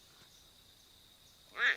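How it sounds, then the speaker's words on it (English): A clouded leopard gives a single short, bright, chirp-like call near the end of a quiet stretch, brief and fairly close. "Clouded leopards can't do either, instead they do this."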